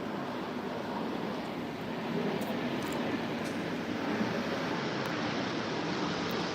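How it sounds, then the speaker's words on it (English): A plane passes overhead as a steady, broad roar that holds evenly loud throughout, with no voices. "Hold on, folks. We have a plane."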